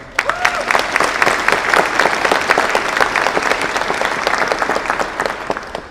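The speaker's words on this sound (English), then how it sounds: "we owe them a round of applause as well" Conference audience applauding private sector leaders: a loud, steady round of dense clapping from a large crowd, sustained evenly for several seconds with no talk over it.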